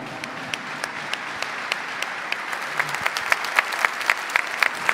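An audience at a Catholic Pentecost congress mass claps to welcome a priest, dense steady applause that swells slightly louder toward the end.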